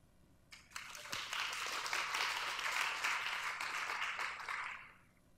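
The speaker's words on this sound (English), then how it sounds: "we just have a nice round of applause to welcome" Audience applause at a women-in-tech event rises quickly into a steady wash of clapping from a seated crowd, holds for a few seconds, then tapers off.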